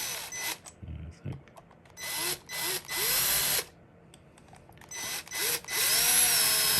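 A power drill on a low torque setting drives screws into a Schlage deadbolt, with several short whirring bursts separated by pauses, close up, plus faint clicks of handling in between.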